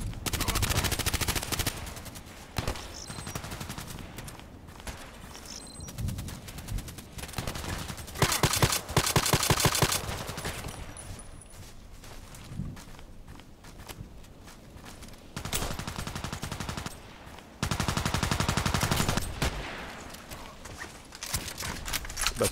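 An EBR marksman rifle firing in a video game, loud repeated shots arriving in dense clusters separated by brief lulls, with almost no talking.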